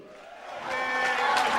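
A comedy-show audience swells into cheering and whooping, the crowd noise rising over about a second from a low murmur into a loud, sustained roar.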